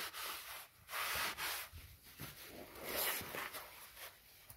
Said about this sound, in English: I gotta wipe the oil off my hands because I got it all oily putting it in.